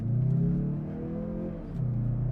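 A 2024 Mazda CX-30 Carbon Turbo accelerates at full throttle from inside the cabin, the engine droning with a rising tone before a brief dip as the automatic shifts up, then pulling hard again.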